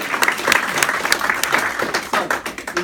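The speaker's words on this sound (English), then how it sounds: "this is where you've got to applaud" An audience at a retirement speech bursts into steady, dense applause that carries on throughout, loud and close.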